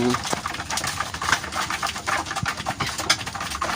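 Racing pigeons cooing after feeding at a loft in Santo Tomas, Batangas, soft repeated coos with rustling close by, under a voice talking.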